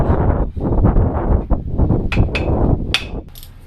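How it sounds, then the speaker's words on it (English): Hammer blows ring out against the crank bolt of a Land Rover 300tdi engine, a dense run of loud, close strikes, with a few sharp metallic hits near the end. "We want to be hammering down, straight directly onto it like that."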